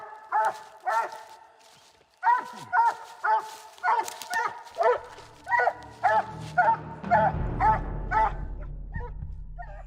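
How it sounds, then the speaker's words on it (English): A coonhound on an Appalachian coon hunt bays at an animal up a tree, giving a rhythmic run of about a dozen loud, evenly spaced barks, with a brief pause early on and a low rumble underneath toward the end. "I like to hear that dog chopping on that tree"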